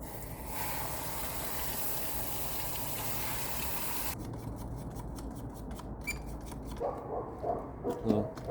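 Water sprays steadily around the engine bay of a Volkswagen Vanagon during cleaning, a dense rushing hiss that cuts off about halfway through. Lighter splashes and clatter follow.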